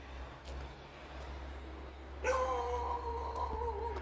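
A puppy barks and yips in a few short, fairly close bursts over a steady low engine-like rumble, likely inside a moving vehicle.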